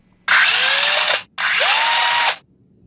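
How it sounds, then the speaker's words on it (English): A cordless drill runs in two loud, steady bursts of about a second each, its motor whine rising as it spins up, separated by a short pause, with no voices. "I have a cordless drill"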